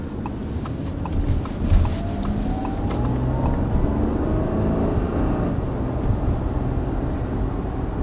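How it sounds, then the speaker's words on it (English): A 2019 Audi A6 engine hums steadily at elevated revs in sport mode, a continuous sporty drone with a faint rising whine, no voices. "Definitely holds your revs up higher, gives you that more sporty sound and feel."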